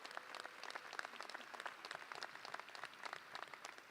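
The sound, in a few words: audience clapping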